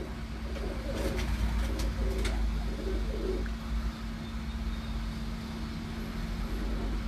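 A pair of bular pigeons coo softly over a steady low hum and distant traffic, with brief calls in the first few seconds that then fade into the background noise.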